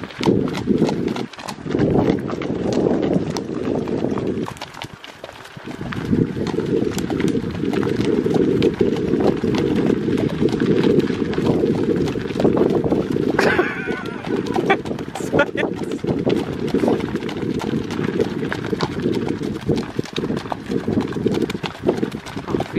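Horses trot and break into a gallop on a trail ride, with a steady, loud clip-clop of hooves running almost the whole time, a brief pause early on, and some talk and a whinny in the mix.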